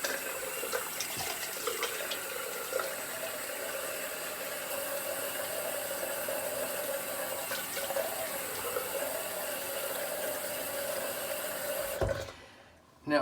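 Tap water runs steadily in a sink as the face is wetted before a shave, a continuous close hiss that cuts off abruptly near the end.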